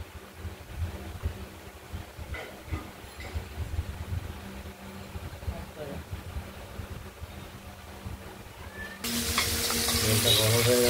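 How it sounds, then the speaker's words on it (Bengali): Shrimp rubbed with salt and turmeric drop into hot oil, setting off a sudden loud, steady sizzle near the end after quieter kitchen clatter and water sounds, with a voice talking at times. "তেলটা গরম হয়ে গেছে, চিংড়ি মাছগুলোকে একটু হালকা ভেজে দেব।"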